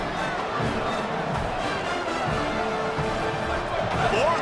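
A stadium crowd in the College Football 27 video game roars steadily throughout, a dense, unbroken wash of noise at a constant loud level, with no distinct cheers or breaks.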